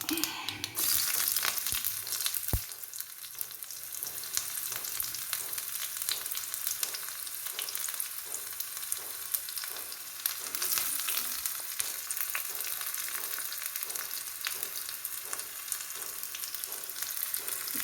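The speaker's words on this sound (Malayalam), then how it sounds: "എനിക്ക് ഇനി ഉള്ളി ഇട്ട് കൊടുക്കാം" Onions dropped into hot oil with mustard seeds sizzle and crackle steadily, with faint scraping and stirring clicks throughout, close and continuous with no talking.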